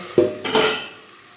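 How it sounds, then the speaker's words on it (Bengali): A metal lid set down onto a pan of kolmi greens cooking on a gas stove, two close clanks in quick succession, the second ringing briefly before fading. "এবার গ্যাসটা সিমে দিয়ে আরও কিছুক্ষণের জন্য আমি ঢেকে দেবো"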